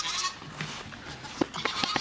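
Goats bleat several times in short, close calls on a farm where horses are kept, with faint background noise between the cries.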